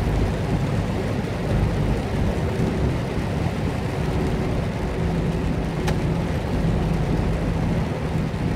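Rain drums steadily on a moving truck, mixed with continuous road and engine roar from inside the cab, a dense unbroken wash of noise throughout.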